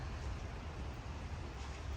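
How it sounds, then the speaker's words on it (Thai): Rain pouring down onto snow-covered ground, cars and a football field in Italy, a faint, steady hiss of falling water with no voices. "แล้วเขาจะมีฝนด้วยเนาะฝนเทลงมานะคะ"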